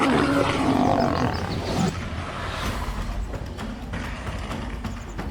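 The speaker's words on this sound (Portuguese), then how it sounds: "Mas o leão se levantou, rugindo." A lion in the Zambian savanna lets out a loud, rough roar that swells at the start and then fades into a rumbling growl and background noise.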